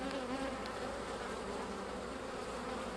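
Honeybees buzz around an open beehive during a hive split, a dense, continuous hum of many insects with occasional louder passes of individual bees nearby and no voices.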